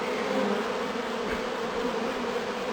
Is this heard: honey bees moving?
yes